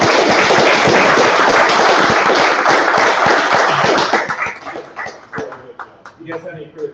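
A room of attendees gives a round of applause for a presenter at a 3D scanning talk, loud dense clapping for about four seconds, then scattered claps tapering off as voices come through.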